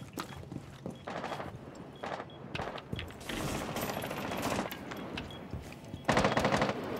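Rapid automatic gunfire in the Rainbow Six Siege video game as attackers shoot open and breach windows, dense bursts of rattling shots that keep going nearly throughout and swell louder toward the end.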